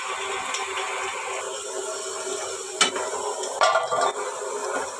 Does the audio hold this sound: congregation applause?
no